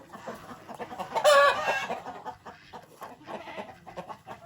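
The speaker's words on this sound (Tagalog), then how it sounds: "So yan ayan nating mga manok." Farm chickens cluck and call around the yard in short, scattered bursts, with one louder squawk near the start among quieter background rustling.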